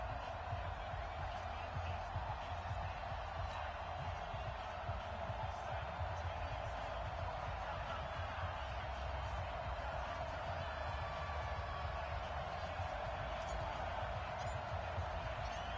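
A steady roar from a sold-out stadium crowd at an NFL game in an EA Sports video game hums as a constant wash under a commentator's voice.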